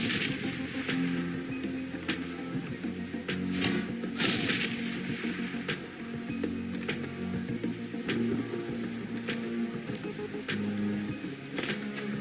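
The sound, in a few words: stealth grenade launcher firing in Shadowrun Hong Kong video game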